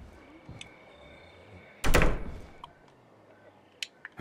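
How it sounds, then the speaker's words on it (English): A door being shut in the zombie survival video game State of Decay, heard as a single solid thunk of moderate loudness followed by a few faint clicks and taps in a quiet room. "Let's close this door"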